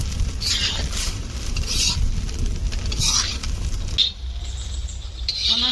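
Duck-egg mixed fried rice sizzles and crackles steadily in a pan on a village kitchen stove, with intermittent scraping of a spatula stirring it and a few brief clinks, close and fairly loud.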